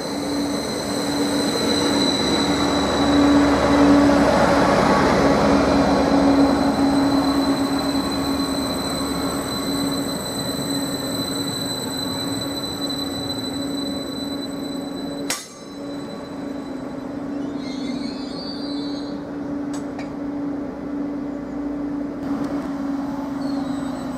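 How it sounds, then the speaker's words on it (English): A Class 755 electric multiple unit, 755338, pulls into Needham Market station on the 12:29 service to Cambridge, rumbling loudly at first and easing as it slows. Its wheels hum and creak, a sharp clunk follows near the stop, and no one speaks. "we've got the 1229 service to Cambridge now arriving."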